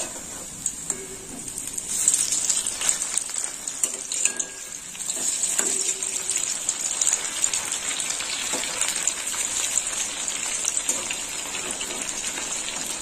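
Neem flower pakoras fry crisply in hot oil, a dense continuous sizzle with crackling spatters throughout, close and fairly loud, with no voices.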